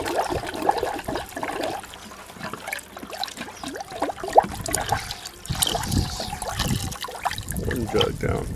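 Coolant drains from a Ford Mustang radiator into a jug outdoors, giving an uneven trickling, gurgling pour at moderate distance, with soft handling noises now and then.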